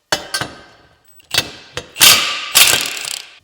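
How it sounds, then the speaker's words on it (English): An impact wrench rattles in short, ratcheting bursts while loosening a tight 19 mm PCV valve on a Subaru STI engine: two quick hits, a pause, then three louder, longer hammering runs, close and without talk. "When in doubt, impact it out."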